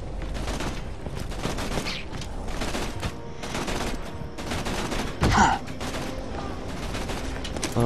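Gunfire in the video game Borderlands 2: repeated rapid bursts of shots at close range, a dense fusillade with brief pauses between volleys and one louder impact near the end.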